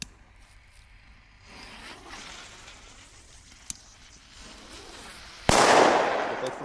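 Knalvuurwerk, the loud Belgian firecracker type, goes off outdoors. A sharp crack comes first, then one loud blast bursts near the end and rings out briefly, over a quieter rumbling background.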